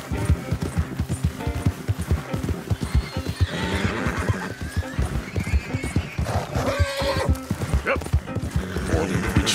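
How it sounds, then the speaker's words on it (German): A spooked horse in the video game Red Dead Redemption 2 whinnies and snorts repeatedly over steady hoof clip-clops while riding, with someone talking over much of it. "dass mein Pferd da ein bisschen scheut"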